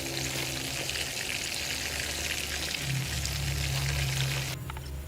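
Pork fries in hot oil until golden brown and crispy, with a steady dense sizzle and crackle throughout, close and fairly loud.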